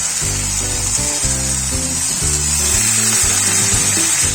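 A little water hits dry frying masala for a rui fish curry, setting off a steady bright sizzle that continues under loud, rhythmic background music.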